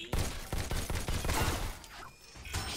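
Energy rifle firing in the VR shooter Robo Recall, with a steady run of punchy synthetic shots spaced evenly at first, then thinning out under ambient game noise, moderately loud and close.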